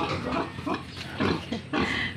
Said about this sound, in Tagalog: Bastos talaga itong baboy na to.